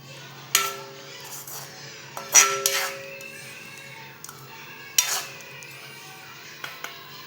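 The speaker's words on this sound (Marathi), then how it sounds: "तर आपण आता त्याला डिशमध्ये काढून घेऊया." Cooked dried fish scooped from a wok into a serving dish, with a few sharp metal scrapes and clinks of the spoon against the pan, separated by quiet pauses and a soft low hum behind.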